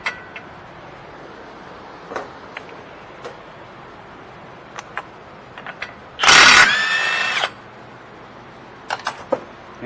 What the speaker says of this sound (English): So now we're going to take this axle nut off, which is a 32 millimeter.